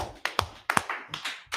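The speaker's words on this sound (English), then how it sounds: "clap it up for today's class" Scattered hand claps from a small audience after a history class, a handful of sharp, separate claps at uneven intervals, fairly close but quiet, with no talking over them.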